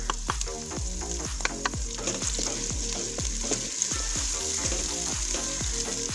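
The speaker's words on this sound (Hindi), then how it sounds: "इसे भुनेंगे दो से तीन मिनट तक।" Chopped green chilies sizzle and fry in oil with browned onions in a village-style kitchen, a steady loud crackle broken by repeated rhythmic stirring scrapes throughout, with no talking.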